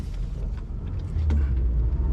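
A classic Mini car out on a drive, its engine giving a steady low rumble close by that grows slightly louder partway through, with no talk.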